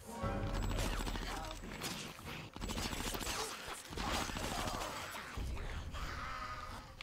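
Gunfire in Conker's Bad Fur Day, heard as dense, continuous bursts of shots and crashes that keep going with short breaks, mixed with game sound effects and quiet under the overall level.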